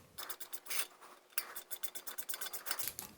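Brake rotor bolts on a Sur Ron Light Bee electric bike are turned by hand, giving a quick series of close, rhythmic metallic ratcheting clicks, briefly interrupted, then resuming.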